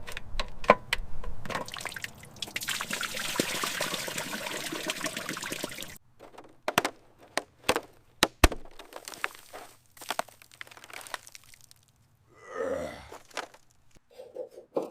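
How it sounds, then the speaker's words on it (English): Old, sludgy engine oil and cloudy coolant drain out of a long-abandoned Porsche 911 GT3, first as a steady splashing pour, then as scattered drips and trickles with quiet gaps. "Watching that pitch-black, sludgy oil and the foul, cloudy coolant pour out"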